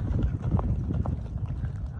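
A strongly built racehorse runs past, its hoofbeats making a quick, uneven clip-clop on the ground, moderately close and fairly quiet against faint background noise.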